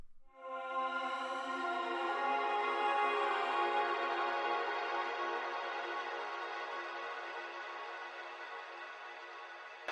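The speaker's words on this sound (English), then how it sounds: "I've turned the delay up all the way, the feedback up all the way" A dense, sustained wash of layered tones swells in and hangs at steady loudness, a delay with feedback turned all the way up piling echoes into a continuous droning smear that slowly fades.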